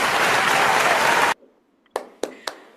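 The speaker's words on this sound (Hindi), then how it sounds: "सबके लिए जोरदार तालियां हो जाए" Dense audience applause for a plant-based products team fills the first half, then cuts off sharply, leaving a few isolated louder claps or knocks spaced apart in near silence.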